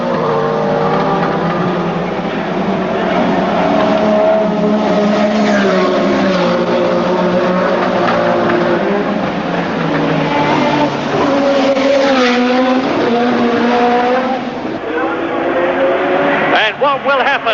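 Ayrton Senna's Formula 1 car races past at his debut-season Grand Prix in wet conditions, its engine screaming loud with shifting revs, while a race commentator talks over it.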